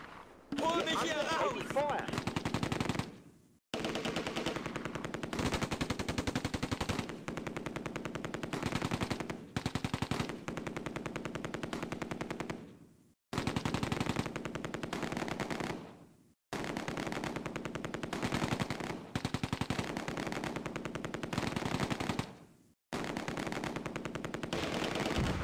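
Game gunfire from Close Combat: A Bridge Too Far during a massive assault on Arnhem West, with long sustained machine-gun bursts separated by brief silent gaps, loud and rapid throughout.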